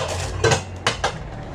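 A metal casserole pot clanks as it is handled while a gift is unwrapped, giving three close, sharp metallic knocks spaced over a second and a half.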